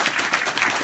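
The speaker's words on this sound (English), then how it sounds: "All right, round of applause, folks." An audience at a live meetup in Manhattan gives a round of applause, a dense, steady wash of many hands clapping that fills the whole short moment without a break.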